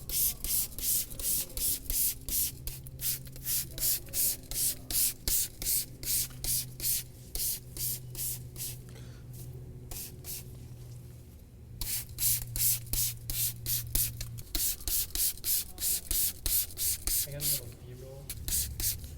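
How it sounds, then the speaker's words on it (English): Orange degreaser is sprayed inside a car wheel well in repeated short, close, hissing bursts in a steady trigger rhythm, pausing briefly midway, with a voice talking faintly underneath. "spray it down"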